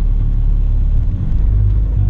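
A cheap $600 Honda car running at a race track, a loud close-up engine drone with dense low rumble, steady and unbroken throughout.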